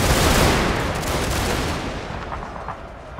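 Musket volleys from massed line infantry and marines in the strategy game Total War form a dense, loud roar of overlapping gunfire that rolls on continuously and fades slightly toward the end.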